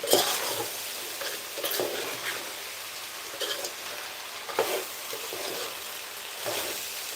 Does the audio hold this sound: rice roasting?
yes